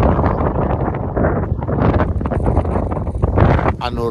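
Strong wind gusts roar and buffet the microphone on a foggy mountain ridge in the Malá Fatra, a loud, continuous rushing blast with no letup.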